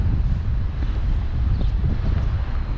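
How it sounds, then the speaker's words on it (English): Strong wind buffets a microphone outdoors, a loud, continuous low rumble with gusty swells and no other clear sounds. "it's so windy"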